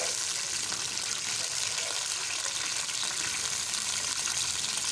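Onions frying in hot oil, a dense, even sizzle and hiss that holds steady throughout, close and fairly loud with no voices.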